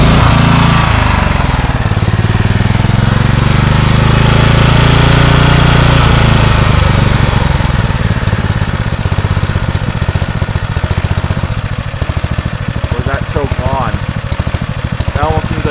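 Generac 4000 W portable generator engine running loud and close with a steady low droning rumble throughout, its tone shifting slightly as the choke is adjusted; no talk.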